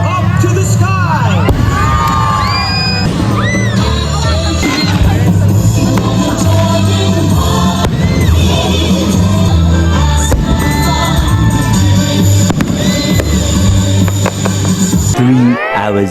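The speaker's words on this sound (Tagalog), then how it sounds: "Sobrang tagal po ng fireworks." Fireworks display with a large crowd cheering and shouting throughout, children's voices rising above a dense roar, a few bright whistling rockets and bangs mixed in, loud and continuous.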